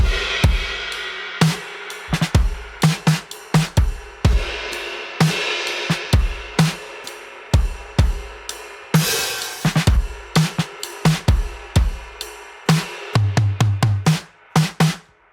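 Slowed-down pre-chorus drum groove on a higher-tuned, open, ringing snare, with busy snare and kick hits and cymbal crashes in an uneven, stretched rhythm, played alone without talking.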